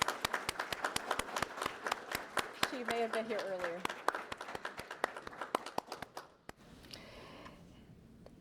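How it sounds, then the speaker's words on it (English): An audience applauds an award recipient at the 40th anniversary event of Emory University's Center for the Study of Law and Religion, with brisk, continuous clapping under a speaker's voice before it thins out and stops. "let's give Rachel a round of applause"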